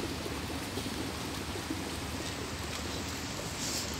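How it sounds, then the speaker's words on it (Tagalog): Steady, faint rain falls outdoors beside a swimming pool, an even hiss of drops with no distinct patter peaks and no talk. "Maulan kasi. It's raining."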